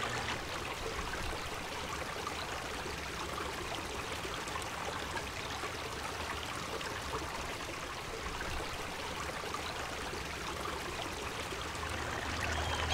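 Creek water flows in a steady, even rush, a continuous close-up gurgle with no voices.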